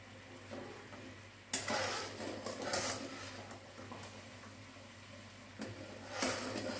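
Ghee goes into halwa cooking in a pan, with quiet scraping and stirring and soft sizzling punctuated by a few louder clatters of the spoon against the pan, close by and with no talking.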